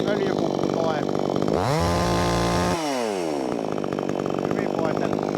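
A chainsaw fitted to an Alaskan sawmill rips planks from a log, running loud and close with its pitch rising and falling as the load changes, and a brief rev-down partway through.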